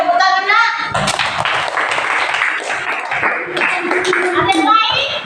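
Children in a classroom clap after a math lesson, a burst of many small hands beating after a brief spoken instruction, with kids' voices chattering over the uneven applause.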